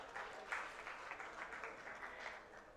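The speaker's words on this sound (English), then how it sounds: "I think we need to clap for this." Applause at a Ugandan energy-sector stakeholder workshop, a quiet audience clapping steadily for a few seconds with uneven, scattered claps.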